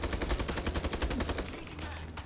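Rapid automatic gunfire from the PC shooter game Ironsight, a steady burst of close, loud shots for about a second and a half that then trails off into fainter firing.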